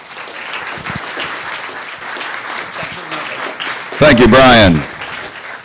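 Audience applause at a science cafe talk about Pluto runs as a broad, steady wash while someone speaks over it, with a sudden loud, close burst near the end.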